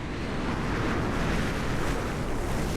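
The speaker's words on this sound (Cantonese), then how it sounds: "啲風咧喺個手指罅嗰度咧穿過咧" Steady, loud wind buffeting the microphone while riding in the Lalibela highlands of Ethiopia, a continuous roaring rush with no pauses and no voices.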